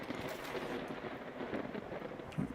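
Thunder rolling through a rainstorm in the survival game Vintage Story: a faint, steady wash of rain with low, distant rumbling underneath and no talk.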